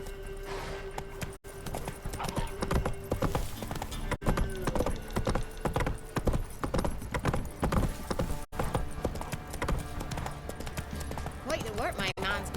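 Roach, the horse in The Witcher 3, clip-clops steadily at close range, hooves beating a continuous rhythm with occasional snorts, while game dialogue voices talk over the top.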